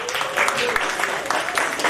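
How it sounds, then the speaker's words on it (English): An audience at a reception applauds a construction company's vice president, steady continuous clapping from a crowd that fills the whole stretch. "Let's give her a round of applause."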